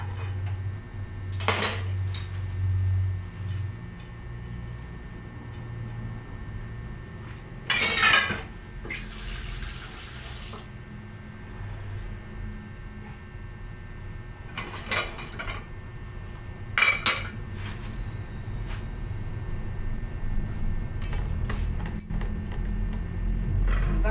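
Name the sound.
washing dishes, clinking cutlery and pots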